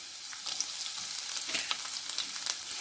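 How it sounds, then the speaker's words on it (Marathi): Curry leaves, garlic and ginger fry in hot oil in a pan for a Malvani mackerel curry, a steady bright sizzle with faint crackles and light stirring, close and alone. "आता मी याच्यामध्ये कढीपत्ता ऍड करते, लसूण आणि अद्रक पण आपण याच्यात ऍड करूया आणि छान असं तेलामध्ये फ्राय करून घेऊया"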